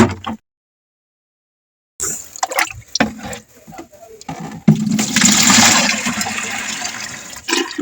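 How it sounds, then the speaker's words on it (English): A watering can filled with water in a small space garden: brief handling noises and short gaps, then a strong steady gush of water pouring in that swells and continues to the end. "So I'm going to load the water can."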